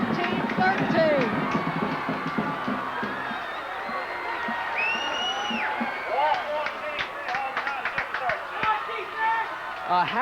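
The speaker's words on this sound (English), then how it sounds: "A happy crowd" A crowd cheers at a high school football game at Wall Field, steady broad roar with whistles and shouts rising and falling, while an announcer talks over it.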